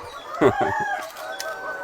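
VV380 chickens clucking close by, with one louder burst like the start of a crow, over a busy coop background.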